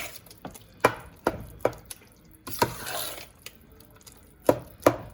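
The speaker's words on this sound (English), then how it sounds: "So then you just mix it all in together" Lasagna filling ingredients being mixed together by hand in a bowl, giving irregular sharp knocks and scraping thuds at uneven intervals, close and fairly loud with no talk.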